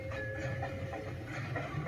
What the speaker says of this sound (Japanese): まもなく3番線に電車が参ります